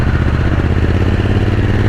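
Triumph Speed Twin 900 (2024) motorcycle engine pulling steadily from low revs, a loud, close, continuous low throb with a rough pulsing rhythm and no voices.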